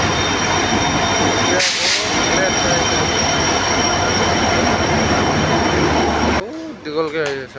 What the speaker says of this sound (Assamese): এয়া ট্ৰেইন সোমালেগে